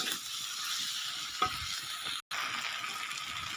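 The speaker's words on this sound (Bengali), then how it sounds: "আলুগুলো দিয়ে ভালোভাবে আলুর মধ্যে মশলাগুলোকে মাখিয়ে নেব।" Potatoes being stirred into a fried spice masala for a vegetarian aloo dum, with a steady sizzle and frying hiss running throughout. A spoon scrape sounds near the middle, and the sound drops out briefly just after.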